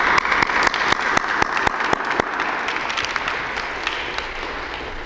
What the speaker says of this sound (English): we have to give Medea a lot of applause just for raising hell about stuff that really needs it